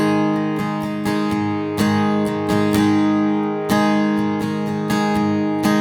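A guitar strums the verse chords of the worship song Goodness of God in a steady, even strumming pattern, full sustained chords with regular accented strokes, close and alone.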